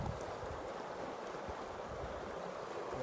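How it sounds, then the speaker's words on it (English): Fast-flowing water of a Yellowstone River tributary in Wyoming in August, a steady, low rushing roar with some wind buffeting the microphone, constant and moderately faint. "Oh, that's super fast water."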